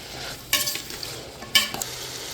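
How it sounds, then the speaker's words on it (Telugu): Vegetables for veg pulao are stirred in a rice cooker, giving two short scraping bursts roughly a second apart over a faint, steady background with no talk. "ఇలా మొత్తం బాగా కలుపుకొని మూత పెట్టి కాసేపు మగ్గనిద్దాం"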